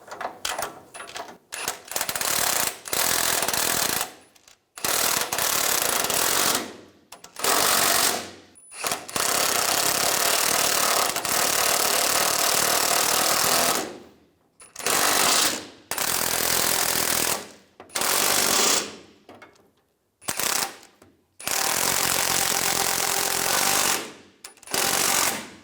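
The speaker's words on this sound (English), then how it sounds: "Using a 17mm socket, tighten the nuts down." A ratchet with a 17mm socket tightens torsion bar mount nuts on a 2001-2006 Chevrolet Silverado 2500, giving loud, close clicking in repeated bursts separated by brief pauses.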